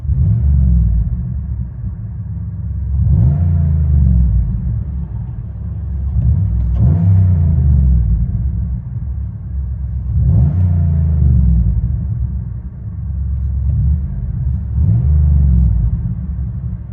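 From inside the cabin, a 2008 Chevy Impala SS V8 with a muffler delete rumbles deep and loud, its exhaust note swelling in repeated rev surges about every three to four seconds over a constant low drone.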